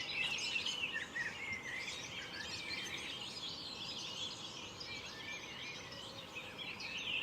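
Birds chirp and trill continuously outdoors, a busy chorus of small songbirds such as goldfinches at moderate distance over a soft background hum, with no one talking.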